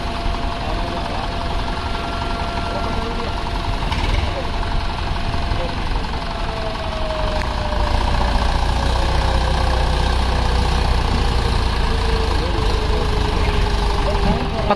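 A Mahindra 575 tractor hauls a roughly 19-ton load with a steady, knocking diesel rumble throughout, while someone talks over the engine.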